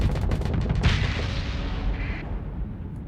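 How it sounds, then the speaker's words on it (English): Missiles striking a ship in the space combat game Starsector, a dense rumbling barrage of booms and blasts, loud and continuous before fading out, with no talking. "I keep getting hit by those missiles."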